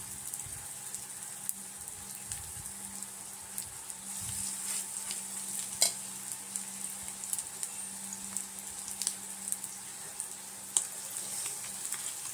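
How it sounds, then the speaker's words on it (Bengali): Banana flower fritters (mochar bora) frying in hot oil give a steady, bright sizzle with scattered small pops and crackles, continuous and close, with no voice over it. "গোল গোল করে তেলের মধ্যে দিয়ে দেবো, দিয়ে আমরা বড়াগুলো সব ভেজে নেব"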